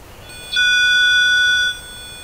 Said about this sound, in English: I set down the phone and it started beeping a little bit